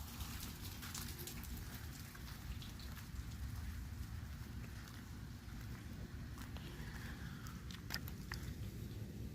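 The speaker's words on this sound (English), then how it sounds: "making energy from the rain falling down" Steady rain falls outdoors with scattered sharper drops striking nearby surfaces, a faint, continuous patter and hiss with no one talking.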